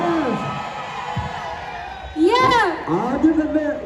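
A crowd at a success meet in Dubai cheers, whoops and shouts loudly and continuously, with the noise swelling partway through, while a voice carries over the top.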